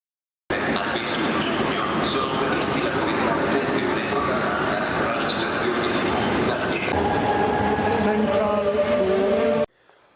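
A busy station hum of trains, rolling wheels and crowd noise at Milano station in Milan, with people talking throughout and a few metallic squeals toward the end.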